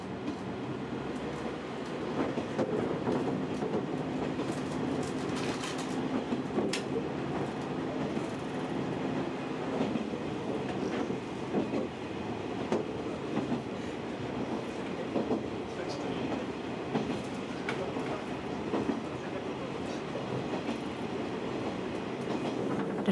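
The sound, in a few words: Japanese bullet trains running on rails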